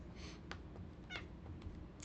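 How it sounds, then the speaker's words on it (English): A house cat gives a few short, soft meows over a faint background hum, with no voices alongside. "That's my cat."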